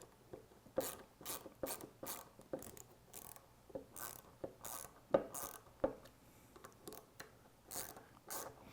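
Screws being started and tightened on a bicycle wheel assembly give off quiet, irregular ratcheting clicks and short scraping turns close by, bursts spaced unevenly across the stretch with no talking.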